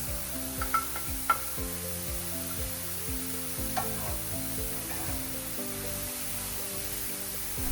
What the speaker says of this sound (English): Now we're getting to the vegetables, so we're adding in mushrooms, carrots, and peas.